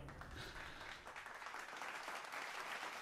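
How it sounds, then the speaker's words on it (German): Steady audience applause at a live music performance in a culture department store, dense and continuous clapping filling the whole stretch at even loudness. "Ich höre Publikum."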